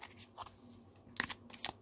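A tarot deck made for couples is handled and shuffled, giving faint, quick riffling and flicking card sounds in short bursts, soft and close in a quiet room.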